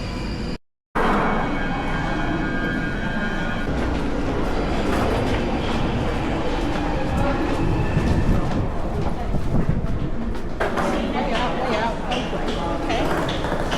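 Rumbling rail noise fills a UK railway station on the route to London Waterloo, with a steady low roar and occasional clattering, while people talk in the background.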